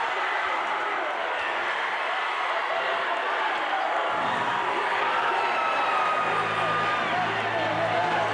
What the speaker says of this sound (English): A hot crowd, an electric crowd here, live at the Bridge Creek Brawl in Blanchard, Oklahoma.